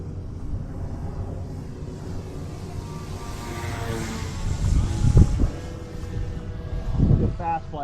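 RC airplane making a slow flyby, its motor drone rising as it passes with a couple of louder swells of wind and engine noise, while a person talks over it.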